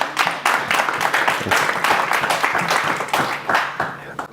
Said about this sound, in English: let's give Alex a round of applause